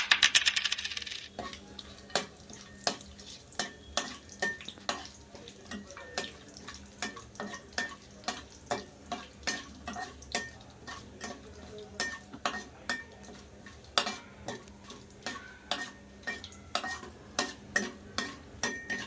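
Whole spices such as cloves, cinnamon, black pepper and cumin roasting in a pan, stirred with a spoon that taps and scrapes the metal in a quick, regular rhythm, close and fairly quiet.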